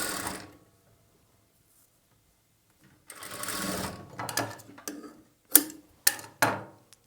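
A sewing machine stitches a plain blouse in short bursts, a rapid mechanical chatter running for about a second at a time, then stopping, followed by several quick, sharp clicks of the mechanism, close and alone in a quiet room.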